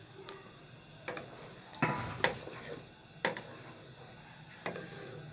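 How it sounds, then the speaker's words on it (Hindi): Spoon scraping and clinking in a pan as yogurt is stirred into chicken kofta, scattered knocks and scrapes at close range over a faint background hiss. "इसे अच्छे से मिक्स कर लेंगे।"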